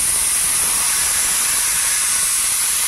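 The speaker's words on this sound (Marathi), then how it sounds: "आता मी गॅस बंद करून घेते आणि कुकरची वाफ काढून घेते।" A pressure cooker releasing steam after the gas is turned off: a loud, steady, close hiss that holds unbroken for about three seconds, then cuts off abruptly.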